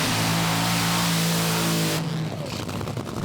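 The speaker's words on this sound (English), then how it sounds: "Both cars just really sounding monstrous in the burnout." Top Fuel drag cars at Willowbank Raceway revving hard during the burnout, a loud dense roar with steady engine drone that cuts off abruptly, leaving quieter track noise.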